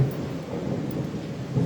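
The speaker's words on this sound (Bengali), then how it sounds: "প্রচন্ড বাজ পড়ছে।" Thunder during a heavy rainstorm, heard as a dense, continuous low rumble mixed with the hiss of falling rain, steady and moderately loud throughout, with no voices.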